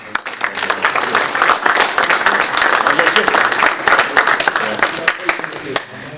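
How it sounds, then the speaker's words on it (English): An audience at a Boys to Men program event gives a woman a lively round of applause, with dense, close clapping running throughout and voices mixed into it. "Y'all give her a round of applause."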